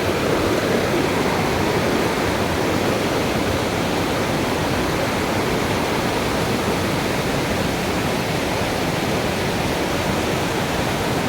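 A waterfall in the mountains of Caquetá, Colombia, pours with a constant, full rushing roar, steady and unbroken from start to finish, with no voices.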